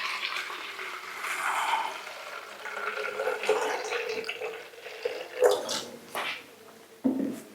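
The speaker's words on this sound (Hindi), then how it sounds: "और अभी हम जो है इसके अंदर सिंपल पानी जी डालेंगे जी।" Plain water poured into a graphene oxide water filter gives a continuous trickling, splashing flow with a few sharper drips and clinks, moderately close and heard alone.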